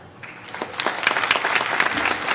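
A crowd at a kirtan claps steadily, a dense patter of many hands building and holding, with faint voices underneath.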